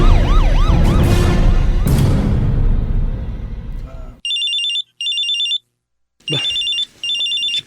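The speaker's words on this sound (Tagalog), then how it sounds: "tumatawag sa cellphone ko" A cellphone rings in repeated electronic bursts, two tone pulses followed by a pause and two more, loud and alone after a noisy, shouting scene with siren-like wails fades out.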